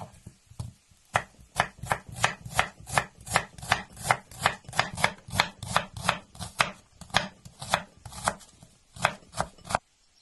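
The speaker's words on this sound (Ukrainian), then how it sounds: "Цибульку нарізаю соломкою." Rapid, regular knife chops on a cutting board as an onion is sliced, dozens of crisp close-up strikes in a steady rhythm, ending abruptly.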